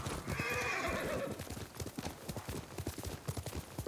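Horse hooves clip-clopping in a video game, a quick run of hoof beats following a brief whinny at the start, moderately close and mostly alone.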